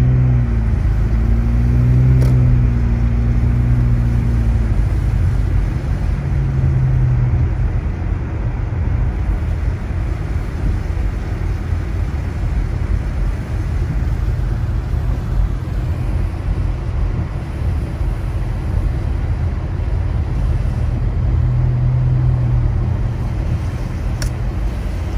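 A car drives through a snowy mountain village in Big Bear during a heavy snowstorm, its engine a steady low rumble with tyre and road noise that stays fairly loud and constant throughout, with no talking.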